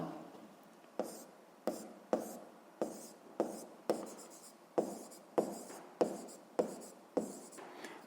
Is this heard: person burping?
no